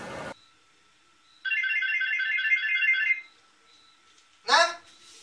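A phone's melodic electronic ringtone trills for about two seconds between brief bursts of other sound, fairly loud and close against an otherwise quiet background.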